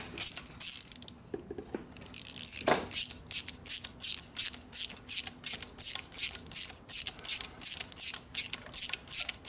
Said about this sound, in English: Meantime, get this screw out.